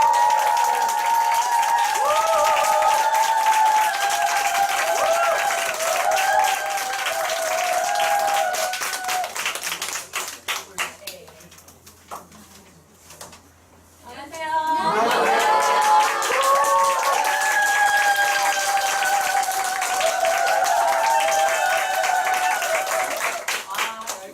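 Audience applause greets a businesswoman being welcomed onstage at a Korean group meeting, clapping loud and sustained but broken by a brief lull midway, with music and voices running beneath.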